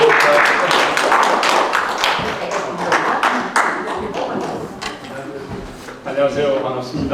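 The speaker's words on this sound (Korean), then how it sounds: "예, 박수로 해주시기 바랍니다" Applause in a church hall for an elderly deacon called forward to lead an Evangelism Explosion session: dense, loud clapping from a congregation filling most of the span, with a voice speaking briefly near the end.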